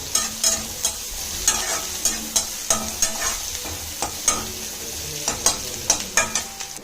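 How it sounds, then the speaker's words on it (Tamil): Chopped ginger and garlic sauté in a pan, a bright sizzle under a regular, rhythmic scrape of a spatula stirring roughly every half second, close and loud. "இஞ்சி பூண்டா நல்லா வதங்கட்டும்"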